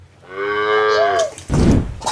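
A Kangeyam karampasu cow on a farm gives a loud, close, drawn-out moo lasting about a second, followed by a short, rougher grunting low.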